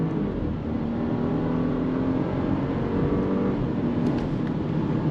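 A 2024 Porsche Cayenne SUV accelerates on throttle, with a steady loud engine drone and a rising tonal note heard from inside the cabin, no voices.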